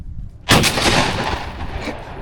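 A single loud, close shotgun blast fired at a clay target during a duck hunting outing in Greenville, North Carolina, with a sharp onset and a long booming reverberant tail.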